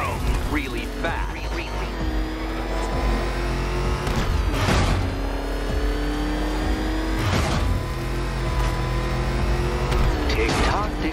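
The Batmobile from Batman: Arkham Knight tears along at speed, its engine roaring steadily under a continuous drone, with sharp whooshing bursts near four and seven seconds and faint tire noise.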